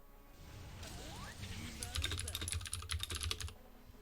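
Rapid clattering keystrokes on a loud computer keyboard, close and prominent, in an irregular burst of many taps lasting a couple of seconds over faint background noise.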